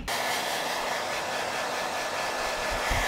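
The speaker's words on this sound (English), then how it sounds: "My hairdryer is covered in dust." A dusty, long-unused hair dryer blows with a steady, loud broadband whoosh that starts abruptly and runs continuously, with no talking.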